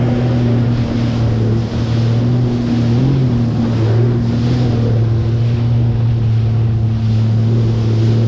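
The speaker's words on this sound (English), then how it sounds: "There's that police boat I saw earlier." A police motorboat engine drones loudly and steadily nearby on a choppy lake, its pitch wavering slightly, with wind and water noise throughout.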